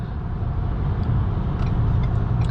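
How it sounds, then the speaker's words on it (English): Turbocharged engine of a 2023 Ford Maverick Tremor heard from inside the cabin while driving: a steady low engine drone with road noise, faint turbo whistles and chirps rising briefly above it. "I love all the turbo sounds coming from this engine as well."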